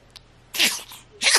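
A newborn baby's sneeze at home: two short, sharp bursts, a small one followed by a louder one, close and clear with no talk.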